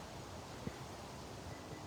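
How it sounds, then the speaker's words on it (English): Steady, low wind rumble buffets the microphone throughout, with a faint soft thump partway through and no voices. "the wind is really whipping today"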